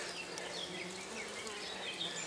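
Honeybees work among flowering plants outdoors, a faint continuous buzz of several insects drifting close by and farther off with no talk.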